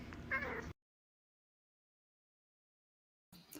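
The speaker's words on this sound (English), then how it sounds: "It's a cat" A cat meows close by in a short, clear call, followed by a long silence and a brief further sound at the end.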